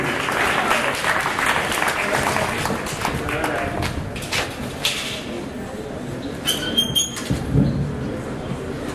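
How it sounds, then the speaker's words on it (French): A crowd applauds an arriving speaker at a French-language ceremony, dense clapping filling the space with scattered voices and crowd noise, fading somewhat toward the end. "Je vous demande encore de l'applaudir jusqu'à son arrivée."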